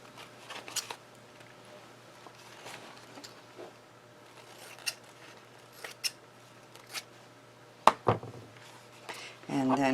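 Sharp, quiet snips of scissors trimming plastic wrap around a paper card, scattered irregular cuts with a few louder crisp clips near the end, heard over someone talking.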